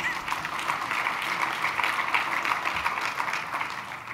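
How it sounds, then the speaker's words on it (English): An audience at a San Francisco Chamber of Commerce breakfast claps steadily, a dense, even wash of applause that fills the whole stretch without pause. "And you can clap for that."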